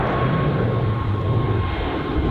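A large airliner takes off from O'Hare International Airport, producing a loud, continuous low rumble and roar of jet engines heard from nearby outdoors, with no voices.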